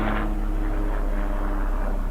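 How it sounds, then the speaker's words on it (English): A small propeller airplane passes overhead, a steady droning engine hum that fades slightly while staying present throughout. "Sorry for that little airplane there"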